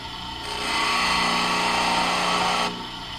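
A TIG tungsten electrode ground against a bench stone meant for sharpening drill bits, a steady abrasive whir that rises, holds for about two seconds, then drops back to a motor hum.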